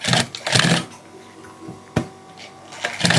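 A sewing machine stitches a mule shoe in short bursts, a rapid mechanical whir that starts and stops several times, fairly close and loud, with a sharp click in the middle and no talk.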